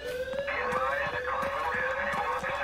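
A burglar alarm goes off in the video game Thief Simulator, a continuous, insistent electronic siren tone that holds steady, with a rising second tone layered over it.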